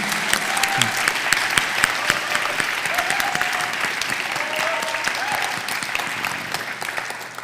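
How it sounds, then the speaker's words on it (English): An audience at a college evening author event claps in a steady, dense round of applause that fills the room, tapering slightly toward the end. "So I'd like to invite another round of applause."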